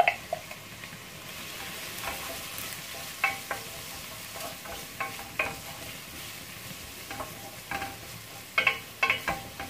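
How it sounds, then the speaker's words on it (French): Sliced onion frying in melted smen (Moroccan preserved butter) for a prune and raisin tajine, a soft steady sizzle broken by repeated scraping stirs of a utensil in the pot, close and without talk. "Je fais revenir l'oignon jusqu'à ce qu'il devienne translucide"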